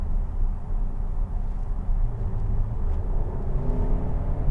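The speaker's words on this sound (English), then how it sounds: "You'll be surprised how much punch this four-cylinder has." The four-cylinder engine of a 2019 VW Arteon pulls hard while merging onto a road, a steady low rumble and whir with road noise heard from inside the cabin, no talking.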